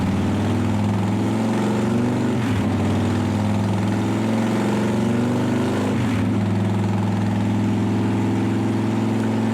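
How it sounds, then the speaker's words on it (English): A motorcycle engine with an S&S Cycle TC3 oil pump and cam plate drones steadily at a constant high highway-speed rpm, loud and close, with a couple of brief dips in its even hum. "Let's bring the engine up to highway speed."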